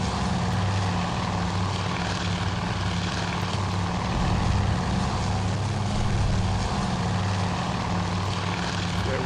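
A second wave of torpedo bombers launches in the naval strategy game Task Force Admiral, giving a dense, continuous propeller-engine drone that stays loud and even throughout, with no voices.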